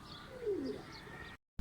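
A pigeon gives a short, low, soft coo, faint against quiet background noise, and the sound cuts to silence near the end.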